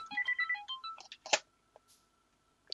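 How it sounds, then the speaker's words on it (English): A phone rings with a quick run of bright electronic tones, followed by a sharp click and a few faint blips before going quiet; the sound is clear and alone. "Stupid phone."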